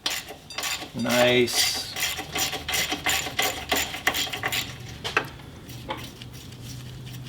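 Metal tools clink and rattle while brakes are bled on an old VW Beetle that sat for 27 years, with a run of close, sharp jangles as a wrench is sought and a brief spoken word.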